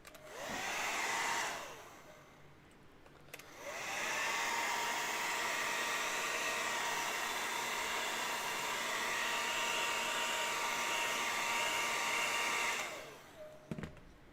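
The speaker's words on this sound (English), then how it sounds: "Let me get the hair dryer on this to speed this up a little bit." Handheld hair dryer blowing on a foam Face Hugger prop: a steady whirring roar that switches on, cuts briefly, then runs continuously for about ten seconds before shutting off, close and loud.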